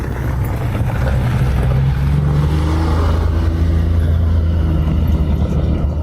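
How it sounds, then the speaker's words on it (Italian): A car passes on a high mountain road in the Dolomites at about 2000 metres, a steady low engine rumble mixed with strong wind buffeting the microphone throughout. "C'è una macchina."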